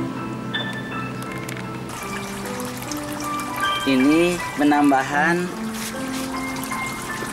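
Water flows from three holes drilled in a PVC pipe in a silk worm culture setup, giving a steady trickle and splash throughout while someone speaks over it.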